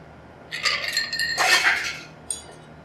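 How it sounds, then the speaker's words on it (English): A stirred bourbon or rye Old Fashioned is poured into a glass, with ice clinking and glassware ringing in two close bursts and a faint final tap. "So we're just going to pour that right in our glass."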